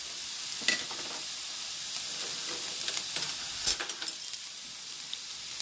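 Vegetables sauté in a pan with a soft, steady sizzle, broken by occasional light scrapes and clicks of stirring.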